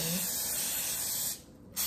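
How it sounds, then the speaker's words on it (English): Cooking oil spray hisses in one steady, close burst onto aluminium foil over a baked ziti dish, cutting off briefly near the end before a short final puff. "Spray the top of my foil."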